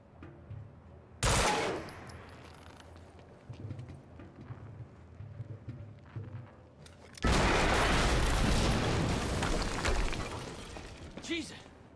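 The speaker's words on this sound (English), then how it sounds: "HQ, we just heard an explosion near the harvesting perimeter" An explosion in the video game Quantum Break lets out a sudden loud broadband blast near the start, then a sustained roaring burst of rumbling, crackling debris that fills the second half, with faint game ambience between.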